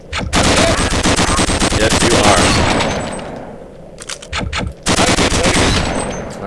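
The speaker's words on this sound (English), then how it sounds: "Our new and improved assault rifle handles all those pesky enemy soldiers." Sustained automatic assault rifle fire in the video game Gunman Chronicles: loud, rapid bursts lasting a few seconds, broken by a short pause with scattered shots, then another burst. A voice speaks briefly.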